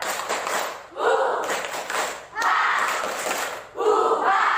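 A school class performs the 'tepuk sambal' clapping chant, bursts of rhythmic claps alternating with group shouts in three loud waves separated by brief pauses.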